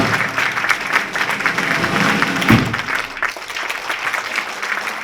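An audience of about two hundred applauds at a patriotic song festival, a dense wash of clapping that runs throughout and thins slightly toward the end.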